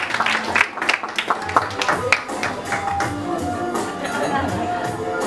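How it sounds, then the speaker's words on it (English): A business group audience at a mentalism show breaks into applause, sharp claps at first that settle into a softer, blended round and gradually taper off. "Can you give her a round of applause?"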